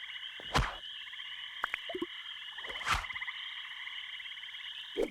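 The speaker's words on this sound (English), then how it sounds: "it's Larry, the brain frog" A frog croaks in a few loud, spaced calls over a steady high-pitched trilling chorus, with no talk.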